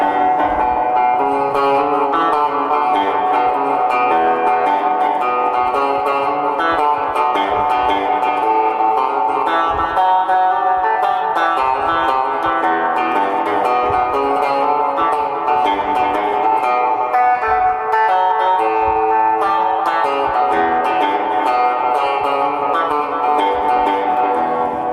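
An electric guitar is played through an old echo machine, its notes smeared into lush repeating trails and a wash of reverberation, loud and continuous throughout with no voices.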